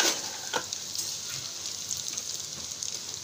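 Chicken popcorn frying in hot oil while being stirred gently, a steady close sizzle with faint scraping stirs, with no talk.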